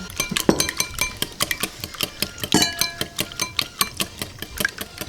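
Four eggs whisked up with oil for a homemade carrot cake batter, a whisk clicking rapidly and rhythmically against the bowl, close and clear with no talking.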